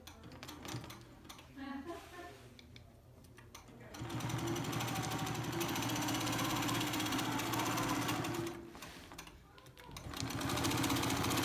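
An Innova longarm quilting machine stitches in the ditch on a fiber art quilt panel, a steady mechanical whirring hum that runs in sustained stretches with brief pauses between, moderately close and fairly quiet.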